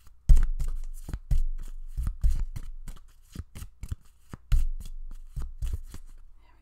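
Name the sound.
shuffling a deck of tarot cards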